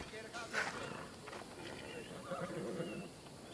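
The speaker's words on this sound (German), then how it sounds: "Also hier ist jedenfalls mein Pferd." A horse in the video game Assassin's Creed Odyssey whinnies a few times over hoof clops, with people talking throughout.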